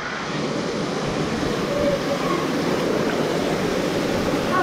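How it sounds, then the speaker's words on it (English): A waterfall at a Discovery Cove swim area, its loud, steady rush of falling water filling the whole stretch without pause as someone passes through it. "Through the waterfall again."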